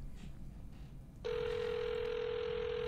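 After a second of low room noise, a telephone ringback tone starts and holds as a continuous steady electronic tone while a call connects.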